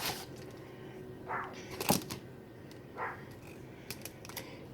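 A fillet knife slices through a soft bubble bar bath product, giving a few quiet, close cutting crackles and one sharper crack midway, with light taps and handling noises around them.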